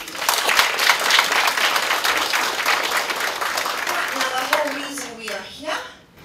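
Applause at the Mrs Africa 2022 awards ceremony, a dense crowd clapping loudly for several seconds before thinning out and fading, with a voice briefly heard near the end.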